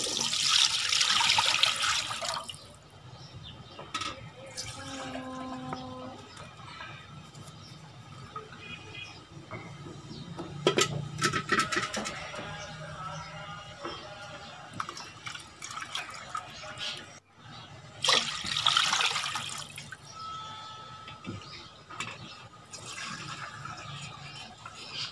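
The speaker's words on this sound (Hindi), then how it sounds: "सबसे पहले कढ़ाई में दूध डाल देंगे।" Three kilos of milk pour into a kadhai for carrot halwa, a rushing liquid splash that comes in two bursts. A voice talks in the quieter stretch between them.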